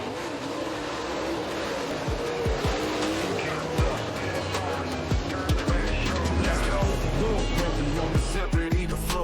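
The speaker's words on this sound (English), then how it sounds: "Kicking up dust, spinning tires, it's a dirt track show." Dirt track race cars spin their tires in a continuous roar of engines, with squeals and skids rising over the din, loud and busy, with voices faintly underneath.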